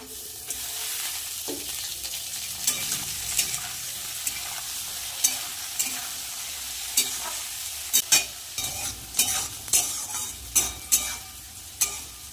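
Green beans and carrots stir-fry in a pan with cashews and raisins for a rice dish. A steady sizzle runs under rhythmic scraping strokes of a spatula that grow sharper and more regular toward the end.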